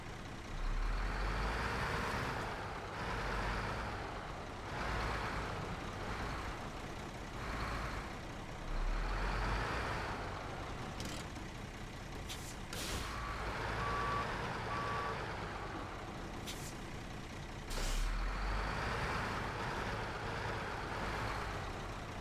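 A truck in the SnowRunner video game maneuvering to load a trailer, with a low engine drone throughout and several bursts of reversing beeps, heard alone without talk.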